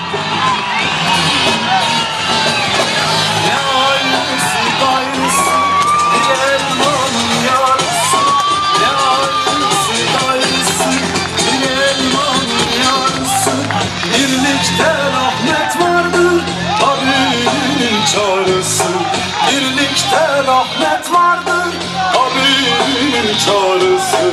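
A large crowd at an election rally roars with sustained cheering, whoops and shouts as a politician is welcomed to the stage, loud and continuous throughout.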